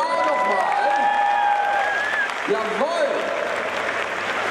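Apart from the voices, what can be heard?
applause for costume contest group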